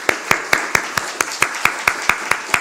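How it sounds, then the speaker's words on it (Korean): Congregation clapping in welcome during a Korean church worship service: loud, steady rhythmic claps in unison, a dozen evenly spaced beats with nothing else heard. "우리 환영의 박수 하겠습니다"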